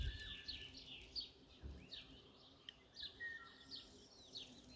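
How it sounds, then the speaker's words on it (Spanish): Small birds chirp and trill repeatedly among a flowering acacia tree, bright calls coming in scattered bursts over a faint outdoor background; any pollinator buzzing is not clearly apparent. "Está lleno de abejorros, abejitas y pajaritos varios."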